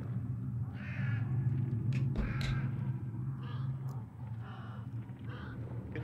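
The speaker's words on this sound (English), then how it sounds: "Shoot these crows." Crows caw in the game Hunt: Showdown, several harsh calls scattered over a steady low rumble of ambient game sound, moderately distant.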